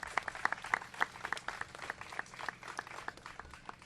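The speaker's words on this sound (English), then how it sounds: "So please give them a round of applause." Applause from an audience at an outdoor press briefing on historic improvements at Griffith Park, a loose spatter of individual claps, fairly faint and thin, as if from a small group at some distance.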